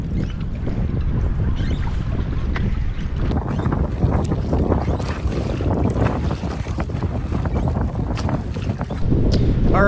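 Strong wind roars steadily across open water around a canoe, a continuous loud gusting rush buffeting the microphone with faint splashing beneath and no talking.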